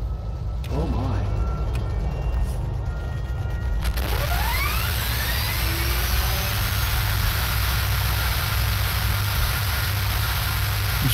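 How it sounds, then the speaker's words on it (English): Turboprop engines of a B-36 bomber in the flight game IL-2 1946 drone loudly and continuously, rising in pitch as they spin up around the fourth second. "I'm ready for the engine sound."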